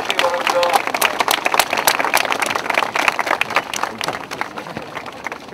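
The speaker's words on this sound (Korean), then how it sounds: "자, 박수로 격려해 주시기 바랍니다." Audience applause at a youth honorary guard inauguration ceremony for the Dokdo volunteer garrison, a crowd clapping briskly and loudly, then thinning slightly toward the end.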